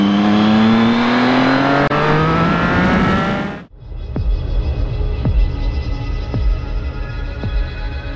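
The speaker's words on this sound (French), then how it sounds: "la présentation de la nouvelle moto Triumph Street Triple 675R de 2013" Triumph Street Triple 675R motorcycle from 2013, its engine revving hard with rising harmonics for several seconds, then abruptly dropping to a rough idle marked by a few sharp throttle blips, loud and close.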